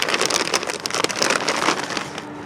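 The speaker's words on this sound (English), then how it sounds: "Sorry about the road noise." Steady broadband road noise from an RV camper on the move, a dense rushing roar with crackly texture that holds at a constant level for the whole stretch, with no talk over it.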